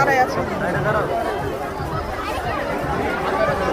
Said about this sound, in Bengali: বাপরে বা ভিড় কত রে ভাই